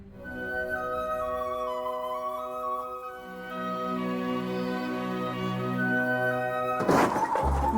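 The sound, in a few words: catering truck crashing into an aeroplane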